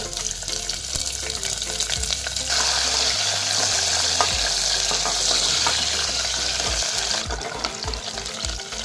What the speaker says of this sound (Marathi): अद्रक खडे मसाले टाकून घेत आहे यामध्ये कांदा टाकून घेत